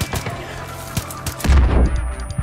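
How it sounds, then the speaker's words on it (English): Rapid gunfire and a heavy explosion burst out in Far Cry 5 gameplay, a quick string of sharp shots followed by a deep booming blast, loud and close with no talking. "why are there explosions everywhere?"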